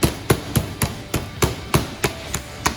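A meat hammer pounds a pork tenderloin fillet flat on a board in about ten evenly spaced, dull, close thuds, a steady rhythmic beat with no talk.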